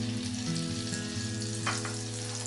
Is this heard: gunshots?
no